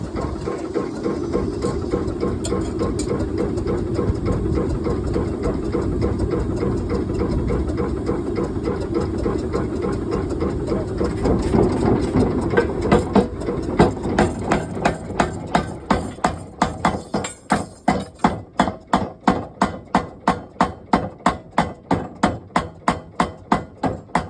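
Hundred-year-old power forging hammer running, a dense mechanical clatter that settles into loud, evenly spaced heavy blows, steady and close.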